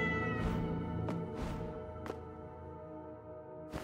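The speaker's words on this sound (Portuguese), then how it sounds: "ali tem um gatinho miando" Cat meowing in the video game Awaken – Astral Blade, a few drawn-out meows over soft layered game music.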